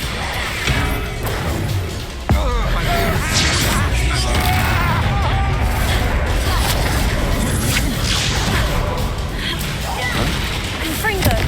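Expulso explosion spell in Hogwarts Legacy, a sudden heavy boom that breaks into a sustained, loud roar of crashing and rumbling debris, with voices and combat noise underneath.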